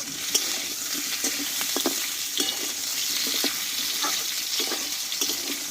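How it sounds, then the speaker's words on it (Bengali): Pointed gourd (potol) frying in oil for a vegetarian potato and potol dish with five-spice seasoning, giving a steady close sizzle with scattered crackles and light stirring scrapes. "পটলটা কিন্তু খুব অল্প আছে আমি কষিয়ে নিয়েছি তবু এখনও কিছুক্ষণ আমি কষিয়ে নেব"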